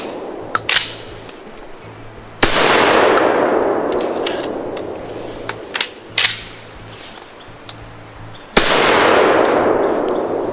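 A CZ 712 semi-automatic shotgun fired outdoors at a range, three loud sharp blasts spaced a few seconds apart, each trailing off in a long echoing decay, with faint clicks and clatter of the action cycling between shots.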